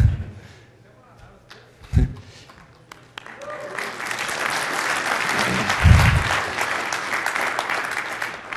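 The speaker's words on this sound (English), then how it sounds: "Sympathy applause is always good" Scattered claps build into sustained applause from a conference audience, moderately loud and filling the room for several seconds, with a few louder bursts.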